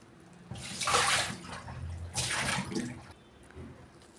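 Water sloshes and splashes in a vessel in two bursts, as if food is being rinsed by hand, with quieter swirling between.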